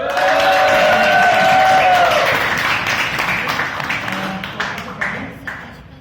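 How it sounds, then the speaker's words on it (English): A Toastmasters meeting audience bursts into applause for a grand finale, crowd clapping and cheering mixed with a sustained tonal sound and voices early on, then fading gradually toward the end. "A huge round of applause."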